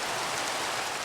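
Rain pours down in the video game Minecraft, a dense, even hiss heard on its own for a brief moment.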